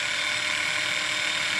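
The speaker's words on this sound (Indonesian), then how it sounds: "Kemudian kita bor bagian tengahnya agar nanti kita tidak perlu melubangi setelah kita tempel." A drill bores into the center of a coconut shell while a thin pipe is being made, producing a steady, high-pitched whine that holds unbroken and fairly loud throughout, with no talk.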